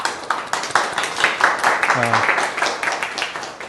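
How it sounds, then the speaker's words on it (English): An audience at the close of a briefing session gives a round of applause, a dense, even patter of many hands clapping, with a brief voice breaking through near the middle. "Give yourself a big round of applause."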